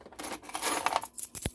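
Brass Yale key blanks, with SC4 and Weiser blanks among them, clink and jingle in a close metallic scatter of short, bright taps, ending in one sharper knock.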